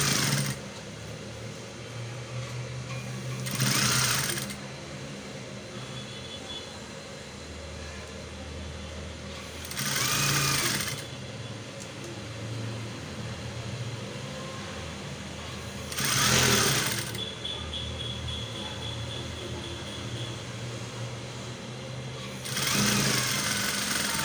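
A sewing machine joins fabric pieces for a bralette or swimwear outfit, running in a steady whirring hum through most of the clip and broken by several short pauses. It sounds close and moderately loud, with no talking.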